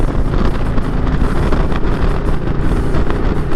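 A 2023 Harley-Davidson Low Rider ST motorcycle pulls hard under acceleration, its deep, continuous engine roar smeared by loud, constant wind buffeting against the microphone.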